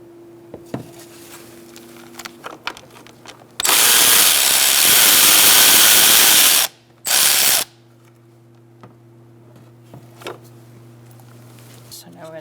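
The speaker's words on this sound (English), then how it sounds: "10mm and an extension, I'm going to take out these two bolts" Two bolts come out of a 2012-2017 Hyundai Accent radiator filler neck with a 10mm socket and extension, a long loud ratcheting burst followed by a shorter one, close up, with sparse clicks and handling noise around them.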